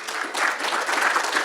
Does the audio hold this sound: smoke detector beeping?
no